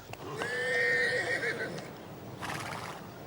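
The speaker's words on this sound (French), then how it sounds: "Un troupeau de chevaux en liberté vient les saluer." Free-roaming horses in a herd on summer mountain pastures at Gavarnie in the Pyrenees neigh loudly: a long, quavering whinny, then a second shorter call after a brief pause, with faint hoof sounds beneath.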